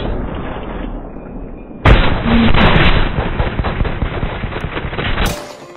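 Bursts of automatic gunfire in Apex Legends, dense rapid shots filling most of the clip after a brief lead-in, loud and close.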